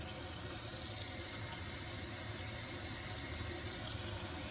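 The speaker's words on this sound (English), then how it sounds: "So I put that water in there till I can see it start coming up." Water runs steadily from a tap into a pot of fresh mustard greens, a continuous, full rushing hiss that holds at an even level throughout with no voices.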